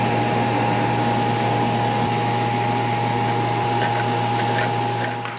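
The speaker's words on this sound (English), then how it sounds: "with the vacuum on, there is still a significant amount of chips, but the vacuum pulled the chips away from the router bit" A shop vacuum hooked to a router cutting a groove for dovetail breadboard ends runs as a loud, steady, even roar with a constant hum throughout, no voices.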